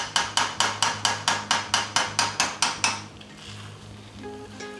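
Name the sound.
pineapple fried rice frying in a hot pan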